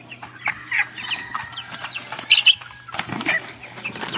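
Backyard hens and roosters in a farmyard, clucking and squawking in short bursts, with some wing flapping and a few sharper calls standing out over a low steady hum.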